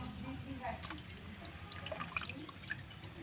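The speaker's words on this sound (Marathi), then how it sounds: "असं पिळून ठेवायचं म्हणजे ह्यातलं पाणी सगळं निघून जातं" Water drips and trickles in short irregular bursts from squeezed bitter gourds over about three seconds, close by, with a faint voice in the background.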